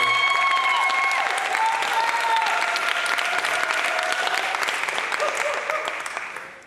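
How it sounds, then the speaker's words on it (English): A teach-in audience gives a panel speaker a sustained round of applause, full dense clapping with some cheering tones early, tapering off at the end. "Give Stephen another round of applause"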